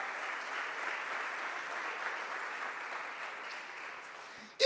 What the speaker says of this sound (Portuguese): aplauda Ele se você quiser